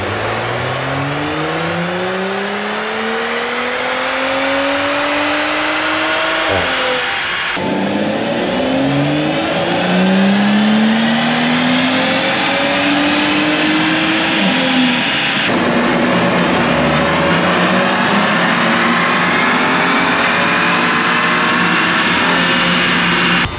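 An Audi B9 S4 with an Integrated Engineering air intake and turbo inlet revving up on a dyno, engine pitch sweeping upward in three long pulls, loud and close.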